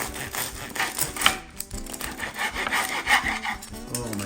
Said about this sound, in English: you're going to go ahead and cut it on this board